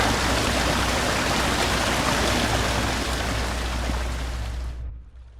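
Water floods a ditch in Resident Evil Zero, a loud, steady rushing torrent that fills the space, then cuts off abruptly near the end.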